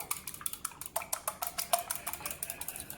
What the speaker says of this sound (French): ici j'ai un œuf entier avec un jaune d'œuf et un petit peu de lait que je mélange